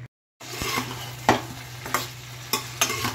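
Green peas, capsicum and spices sauté over low to medium heat in a pan, a soft continuous sizzle punctuated by several distinct scraping stirs of a spatula at irregular intervals after a brief silence.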